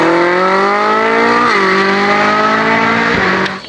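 A race car at a motorsport day holds a loud, steady engine note close by, with a brief dip in pitch midway. A second dip comes near the end before the sound cuts off abruptly.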